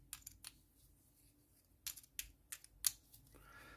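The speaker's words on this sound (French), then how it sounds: "je vais remélanger cet ensemble de jetons, fouille, pour remélanger, pour refaire une pile" Search tokens from the Sleeping Gods board game being reshuffled into a pile, with quick bursts of light clacking and rattling, close and fairly soft, pausing briefly between handfuls.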